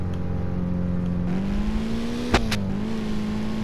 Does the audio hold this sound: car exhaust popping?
yes